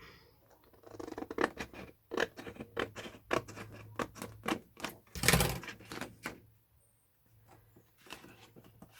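Scissors snip around a sheet of acetate for a handmade shaker card, a close series of crisp, irregular cuts and rustles with brief pauses between, in a quiet room.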